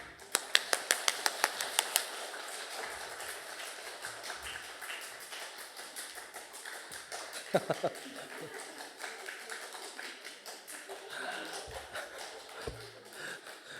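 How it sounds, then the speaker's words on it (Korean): Church congregation applause at a Wednesday dedication service, starting with a burst of sharp individual claps, then settling into softer, uneven clapping with scattered louder claps, fairly faint overall. "우레와 같은 박수로 해주셔서 감사해요."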